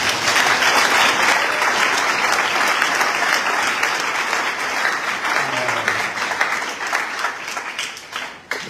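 A church congregation breaks into loud, sustained applause that fills the room, dense clapping that holds steady for several seconds before thinning slightly toward the end, with voices murmuring underneath.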